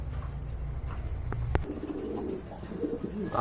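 Pigeons coo at a pigeon market, a low, soft, rolling cooing that is fairly close, with a couple of brief sharp taps in between and no talk.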